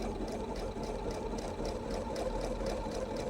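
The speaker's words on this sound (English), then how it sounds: "And we'll just sew off the end." A sewing machine stitching off the end of a fabric seam, producing a continuous, fairly quiet mechanical whirr with a fast, even rhythmic ticking of the needle, no speech over it.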